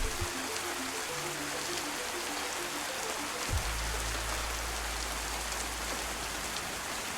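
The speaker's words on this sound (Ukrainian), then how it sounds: "Чекав ранку або закінчення дощу." Steady rain pours down at night in the survival game DayZ, a dense continuous hiss of drops on surfaces that fills the whole stretch alone, with soft low game tones and a brief thud midway.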